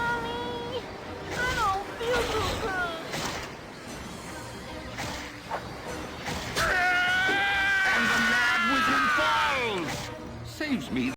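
A cat familiar in a video game meows in several drawn-out, wavering cries, one long and loud near the end, with a person talking intermittently between them.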